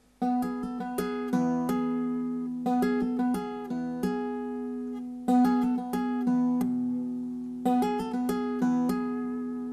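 Lap-style acoustic guitar plays a repeating harmony phrase, plucked notes ringing over a sustained low drone, quiet and unaccompanied.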